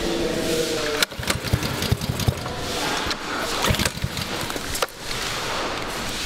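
An engine is started and brought to life, with cranking bursts and sputtering, uneven running and a couple of abrupt cutouts, heard close and fairly loud.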